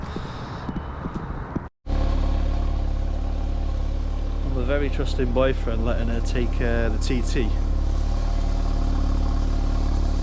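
An Audi TT's engine starts up and idles, then revs as the car drives off, with someone talking over the engine at the start.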